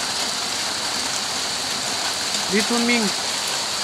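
Steady rain falls outdoors as a dense, even hiss throughout, with a short spoken call briefly heard over the downpour.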